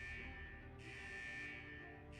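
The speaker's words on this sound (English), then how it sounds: "Is that the central alarm of the vault?" A central vault alarm in a video game, a continuous electronic buzzing tone pulsing in long cycles of under a second, steady and moderately loud against a low background hum with no talking.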